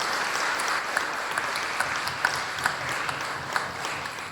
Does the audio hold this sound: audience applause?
yes